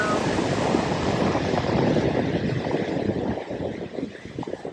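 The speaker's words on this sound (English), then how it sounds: "So this is the top of the waterfall" Waterfall on a river along the White Route hiking trail at Glendalough, Ireland, heard from the top of the falls: a loud, close, continuous rushing roar of falling water, steady and broadband, easing slightly toward the end.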